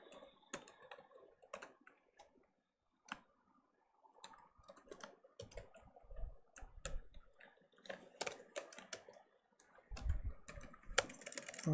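Computer keyboard typing as a username and password are entered during server setup, bursts of close key clicks with short pauses, louder and denser toward the end.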